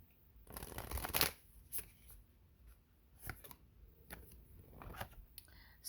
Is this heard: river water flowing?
no